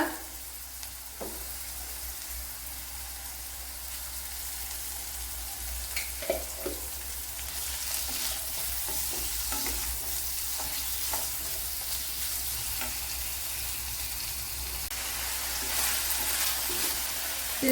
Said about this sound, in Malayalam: വെളുത്തുള്ളി ഇഞ്ചി സവാള എല്ലാം കൂടി ഒരുമിച്ച് അങ്ങ് വഴണ്ട് വരും